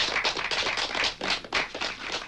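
Applause in a scene from the 1980 film Phobia, a loud, close burst of many hands clapping in irregular waves throughout, with no speech.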